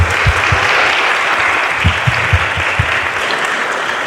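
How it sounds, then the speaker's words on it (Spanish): An audience at a teacher-training class workshop claps in a loud, continuous round, with some heavier thumps and claps close by standing out over the even wash of applause. "Aplausos."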